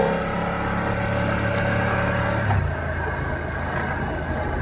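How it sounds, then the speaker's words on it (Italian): BMW F900R naked motorcycle with a twin-shaft engine, heard as a steady mid-pitched engine drone that rises in a rev and then drops off to a lower idle hum. "Motore che non frulla, non vibra per merito dei due alberi."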